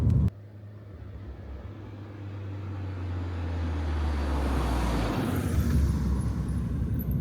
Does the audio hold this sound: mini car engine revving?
yes